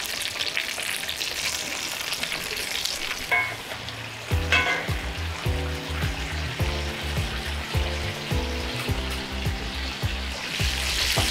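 Crispy chicken thighs sizzle loudly in a frying pan, a close continuous crackle with some clinks of a utensil as the pieces are flipped. There is no talking.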